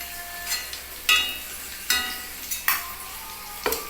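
Meat frying in hot oil in a pan, a loud steady sizzle broken by repeated scraping stirs at roughly even intervals, close up with no talking.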